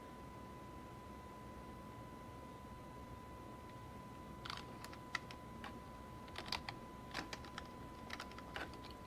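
Quiet clicks of typing on a computer keyboard come in short irregular bursts over a steady background hiss and faint tone, with no one speaking.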